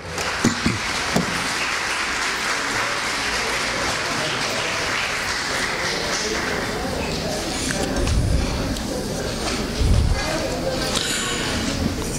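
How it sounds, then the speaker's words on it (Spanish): Audience applause in a hall at a 2015 Miraflores prize-giving ceremony, honoring a woman drawn as a laptop winner; steady clapping fills the clip under ongoing talk, with a few sharper knocks near the end. "El aplauso para ella, por favor"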